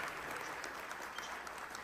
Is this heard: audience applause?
yes